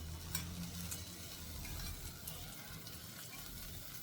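Soft, steady sizzling of a little oil heating in a wok, a faint crackle with a low hum underneath, no talking.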